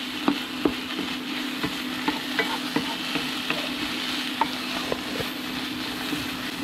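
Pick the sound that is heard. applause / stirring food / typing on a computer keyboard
stirring food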